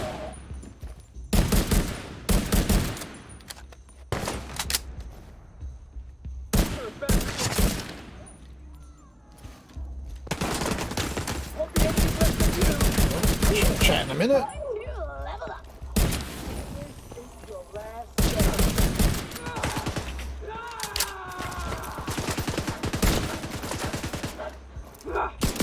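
Heavy gunfire in the video game Tom Clancy's The Division 2, including shotgun blasts, with loud repeated bursts and rapid volleys alternating with brief lulls, while someone talks excitedly over the shooting.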